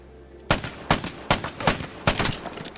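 Five sharp gunshots from a para rifle in the video game Vigor ring out in a steady rhythm, each loud, close and punchy with a short tail, fired one after another with no talking.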